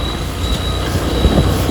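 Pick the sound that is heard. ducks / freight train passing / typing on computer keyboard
freight train passing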